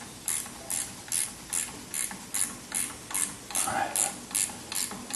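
A ratchet clicks in about ten quick, evenly spaced bursts while tightening a cap on a 1976 Corvette half shaft, close and fairly quiet with no talking.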